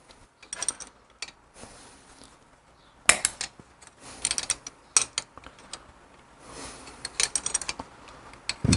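Ratchet wrench loosening rocker box bolts on a Harley Evo Fatboy engine, close, quick metallic clicking in short irregular bursts with small knocks between.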